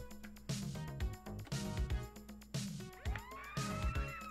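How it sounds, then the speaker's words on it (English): A wailing ambulance siren from the video game Party Hard, sweeping up and down over busy, rhythmic game music and sound effects, moderately loud. "Ambulance is here now."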